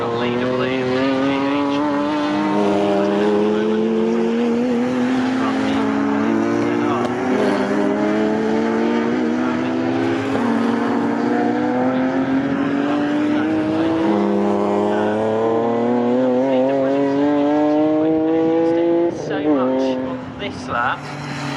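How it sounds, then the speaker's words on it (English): Saloon race cars, including a Renault Clio and a Honda Civic, roar around Snetterton circuit in a loud, sustained blend of engines rising and falling through the gears as they pass, with a commentator talking over them. "is headed by Ray Honeybone in that Clio, so he's battling with the Honda Civic that was amongst them for the Class C lead"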